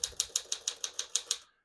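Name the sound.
1952 Smith-Corona Silent portable typewriter typing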